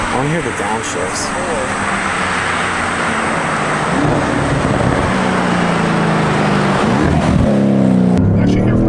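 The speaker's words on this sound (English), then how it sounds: "I want to hear the downshifts." A 2016 Audi S6 with aftermarket downpipes revs and downshifts, its engine note rising and dropping in blips, loud and close, with a sharp burst near the end.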